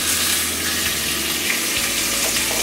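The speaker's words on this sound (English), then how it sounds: "And then I'm going to put them each in the pan" Chicken pieces laid skin side down in a hot pan, a loud steady sizzle of frying throughout, with a few soft clunks as pieces are placed, no voices.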